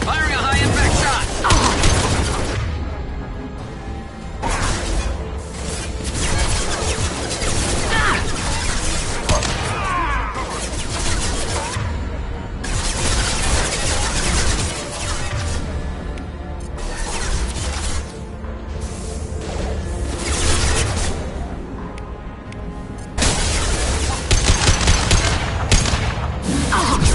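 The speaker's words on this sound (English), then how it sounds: "Firing a high-impact shot!" Mass Effect Legendary Edition combat with loud, nearly continuous gunfire, booming impacts and mechanical clatter in dense overlapping bursts, with voices calling out amid the shooting.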